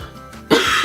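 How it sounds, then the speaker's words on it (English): A single sharp, loud cough bursts out after a brief quiet stretch, close and harsh with a throaty rasp, alone without speech. "I have this really annoying cough and I have been with it for about 2 weeks"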